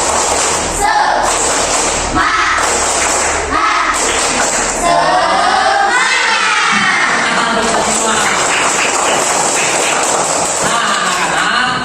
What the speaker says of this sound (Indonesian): Ayo kita mulai tepuk semangat.